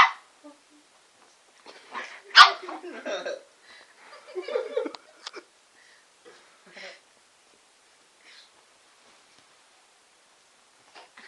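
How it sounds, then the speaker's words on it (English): A small shih tzu gives a few high, sharp yips in short bursts, separated by quiet gaps, fairly close by. "Exactly the same bark as Millie. That yip yip."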